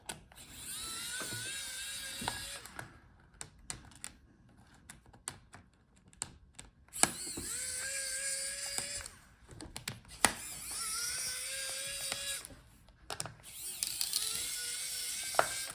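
A screwdriver removes screws from an HP Omnibook 3 laptop, giving repeated bursts of fine ratcheting clicks and small metallic taps, close and fairly quiet, with pauses between screws.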